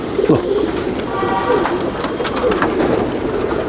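Sialkoti pigeon cooing close by in a few repeated soft throaty coos, with faint background chatter and rustling.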